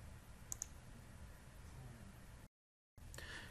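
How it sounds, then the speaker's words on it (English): Mouse clicks while saving in TRACE 700 software on a computer: two quick faint clicks over a low background hiss, with a short silent gap later. "Now I can go ahead and click on Save."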